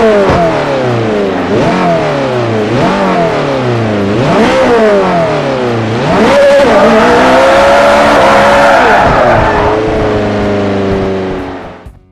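A Ferrari 458 Italia in the Forza racing game, revving loud and close on a track. Its engine climbs through repeated high rising sweeps, each dropping sharply at a gear change, then holds a long sustained scream before fading out.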